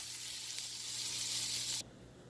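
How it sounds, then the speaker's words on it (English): Rough-chopped onions sauté over low heat in a pan, giving a steady, close hiss of sizzling that cuts away abruptly near the end, leaving a quieter background. "I've rough chopped some onions. I didn't mince them. And we're going to let those saute, get caramelized to bring out that sweetness in them."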